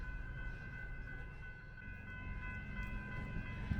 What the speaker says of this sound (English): trains come and go quite frequently